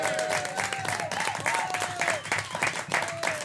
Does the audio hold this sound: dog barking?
no